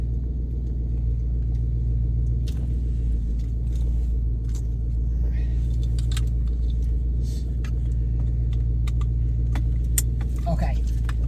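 An S197 car's engine idling steadily, a constant low rumble throughout, with a few faint clicks and taps from work going on inside the car.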